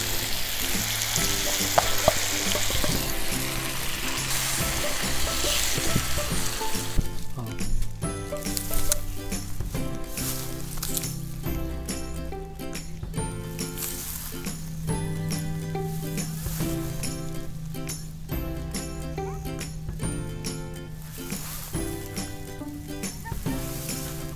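Tomato and chicken gravy with black pepper sizzles in a tawa for chicken tikka, a steady close frying hiss alone for several seconds before music comes in and plays over it.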